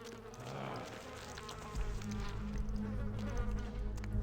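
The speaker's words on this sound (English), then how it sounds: "Got some flies buzzing around." Flies buzzing in the video game VTM: Bloodlines, a steady insect drone alone against game ambience that grows slightly louder and fuller midway, continuing without pause.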